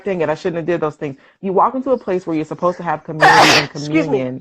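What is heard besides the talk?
sneeze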